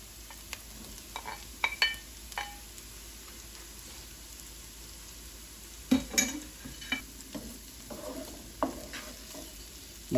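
Spam cubes frying in a pan for creamy white spaghetti, a quiet sizzle broken by scattered utensil scrapes and taps against the pan, close and sparse.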